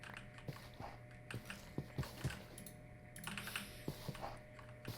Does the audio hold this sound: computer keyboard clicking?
yes